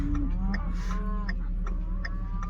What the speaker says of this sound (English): Beautiful little Charolais calf